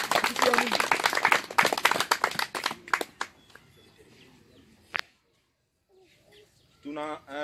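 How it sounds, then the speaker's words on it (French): A church congregation claps loudly and steadily for about three seconds, then scattered claps fade into near silence before faint voices and a brief sung or spoken phrase close it. "On applaudit très fort pour la gloire."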